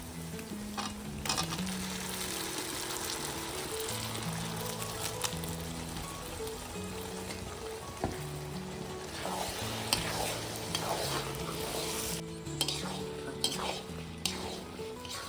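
Boiled peas frying in rendered mutton fat while being stirred, a quiet continuous sizzle with scattered clinks and scrapes of a utensil against the pot, faint background tones beneath and no voices.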